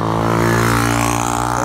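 A motorbike engine on a road in the Gambia, its steady harmonic drone close and loud throughout, with no voices over it.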